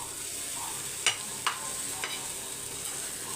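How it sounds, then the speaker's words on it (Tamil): Dry frying in a pan with no oil while cooking prawn thokku and mackerel fry, a steady low sizzle with a few sharp scraping stirs of the spatula spaced across the clip, no voices. "எண்ணெய் ஊற்றாமல் அப்படியே ட்ரையாக ஃப்ரை பண்ணுங்கள்"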